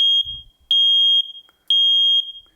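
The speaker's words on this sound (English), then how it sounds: "The smoke alarm will go off first." A combination smoke and carbon monoxide detector sounds after its test button is pressed: three loud, shrill, sustained electronic beeps of about half a second each, evenly spaced with short gaps, close by and alone.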